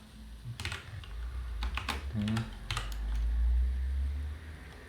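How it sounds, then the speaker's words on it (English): Typing on a keyboard of a mid-2011 iMac upgraded with an SSD: quick bursts of soft keystroke clicks, close and fairly quiet, with short pauses between runs. "Now I have to type this out."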